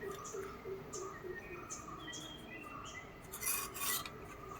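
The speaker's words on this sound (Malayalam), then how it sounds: "നല്ലവണ്ണം നമുക്ക് തേച്ച് കൊടുക്കാം" Cumin face pack rubbed onto the skin of the face, a soft close rasping and smearing that repeats steadily in short strokes with no talking.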